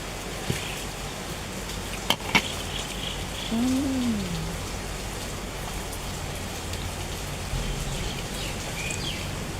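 Steady rain falls outdoors as a continuous even patter, with a couple of sharp knocks and a brief low tonal sound partway through.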